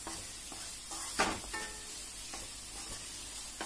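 Jaggery melts in a pan as it is stirred, a faint low sizzle broken by a few soft scraping spoon strokes, close and without speech.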